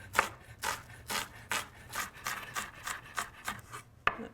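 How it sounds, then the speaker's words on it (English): A knife chops meat into small mince for larb on a cutting board, with about ten crisp, evenly spaced strikes landing close and clear. "Chop away."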